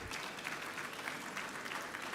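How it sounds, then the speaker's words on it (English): Audience applause at a Yobe State education fundraising event, a steady wash of clapping with no voices on top. It is fairly distant and soft and holds even for a couple of seconds. "Please give Alhaji Dahiru Mangal another very big round of applause."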